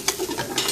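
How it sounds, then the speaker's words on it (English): A short scrape of a utensil stirring mince with garlic in a pan, close and clear with a light sizzle beneath. "Give that a good stir about."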